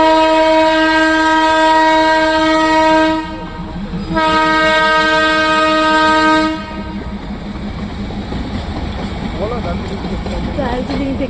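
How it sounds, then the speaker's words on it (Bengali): A Darjeeling toy train near a tea garden sounds two long, loud, harmonic horn blasts separated by a short pause, followed by a lower rumble and rolling clatter from the train. "দার্জিলিং থেকে টয় ট্রেন আসছে বন্ধুরা।"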